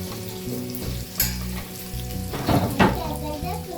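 Offal frying in a pan as peppers and onions go in, a loud continuous sizzle with a few sharper crackling bursts and stirring, and a low hum beneath.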